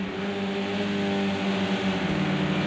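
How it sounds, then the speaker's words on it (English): A British Touring Car race car on the Donington Park National circuit passes by, engine droning steadily at mid distance with a slight pitch change, no talk over it. "I don't know if I can hear a car."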